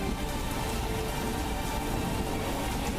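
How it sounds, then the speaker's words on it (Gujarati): Heavy rain pours down steadily in Ambaji, Banaskantha, Gujarat, water running along the roads, a dense continuous hiss with no pauses, moderately loud and close throughout. "અંબાજીમાં ભારે વરસાદ વરસતા રસ્તાઓ પર પાણી વહેતું થયું છે"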